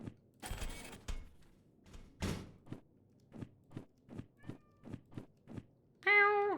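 A cat meows once near the end, a short clear tonal call after a series of soft thumping footsteps and a couple of bursts of noise.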